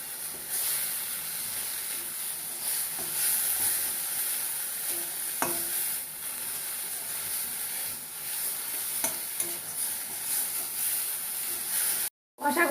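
Turmeric, chili, coriander and cumin paste sizzles and hisses steadily in hot oil for fish curry, with a few scraping stirs and clinks of the spoon against the pan throughout.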